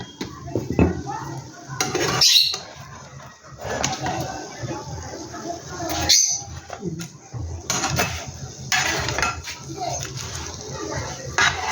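A pan lifted off a gas stove, with metal pan and utensil clanks and clinks scattered between ongoing talk in a home kitchen, a voice and a dog also heard now and then.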